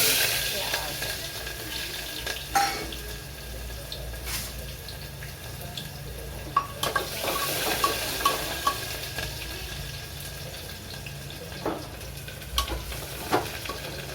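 Cumin seeds sizzle in hot oil while salted rice is being tempered, a steady broadband frying hiss with scattered sharp pops and stirring clicks, moderately quiet and close, with no speech.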